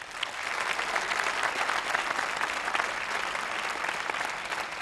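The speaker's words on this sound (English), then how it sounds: "Please give yourselves a huge round of applause." A studio audience in Gurgaon gives sustained, dense applause for a televised Q&A panel, an even roar of many hands clapping that carries on for several seconds with no speech over it.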